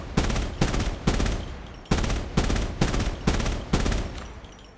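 Rapid bursts of automatic weapon fire in the mobile shooter Call of Duty Mobile, about eight loud, close, evenly spaced volleys separated by brief pauses, with no talking.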